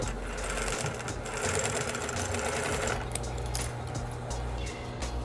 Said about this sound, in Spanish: Y pespuntamos.